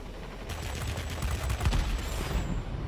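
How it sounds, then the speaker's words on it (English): Rear gunner fire in World of Warplanes, the air combat game, comes as a rapid rattling burst of machine-gun shots over steady engine and battle noise, loud and close. "if you can come from the sides, you can maybe avoid a little bit of that rear gun fire"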